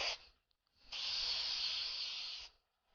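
An aerosol spray can coats a chocolate shoe, giving a short puff and then a steady, close hiss that lasts about a second and a half before stopping. No voices are heard.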